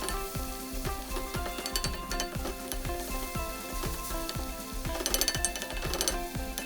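Fresh fenugreek leaves, washed and torn by hand, sizzle and fry loudly in a hot pan for a chicken curry, with steady crackling, periodic stirring scrapes and occasional clinks of utensil against the pan throughout.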